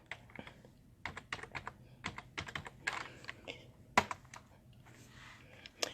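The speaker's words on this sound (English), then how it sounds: "I am typing in, let me show you so you know what I'm doing" Rapid, irregular clicking of keys on a computer keyboard, close and fairly loud, in uneven bursts with short pauses and a sharper key strike near the middle, with no talk.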